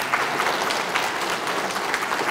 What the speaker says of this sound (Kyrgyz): Мына бир кол чаап коюш жерин.